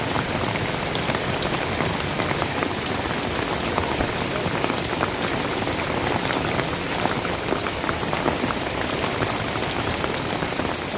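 Heavy rain pours down on a village in Bathinda district, Punjab, with roads flooded. It makes a loud, dense, unbroken hiss of drops striking surfaces that lasts throughout, with no voices.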